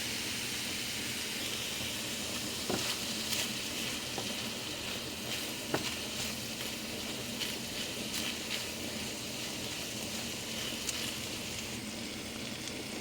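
Ground pork giniling sautés in a pan, a soft continuous sizzle with a few faint utensil taps and scrapes.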